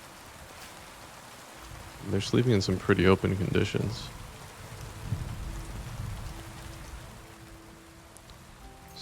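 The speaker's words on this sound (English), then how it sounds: "I think the rain probably helps us mask the fact that it's probably pretty noisy" Steady rain falls in a video game near a bandit camp, a soft continuous hiss running throughout while someone talks over it for a few seconds in the middle.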